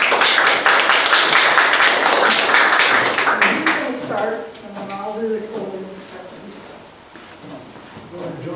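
Applause from an audience at a history talk fills the room, dense and sustained at first, then thinning out as a voice begins speaking.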